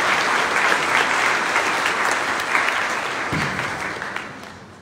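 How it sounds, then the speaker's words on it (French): Warm applause from the congregation at a Sunday Mass, a dense steady patter of many hands filling the church, gradually fading away toward the end. "On peut l'applaudir aussi."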